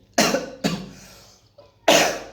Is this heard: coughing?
yes